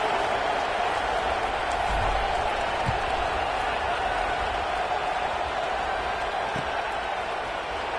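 A subdued stadium crowd in the College Football 26 video game, South Carolina against Auburn, keeps up a steady, even murmur with no distinct cheers, a flat roar filling the background.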